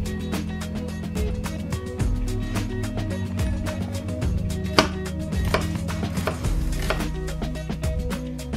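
Knife chopping sambal matah ingredients into small pieces on a cutting board, a steady run of close, crisp cuts repeating quickly over several seconds alongside a low background hum.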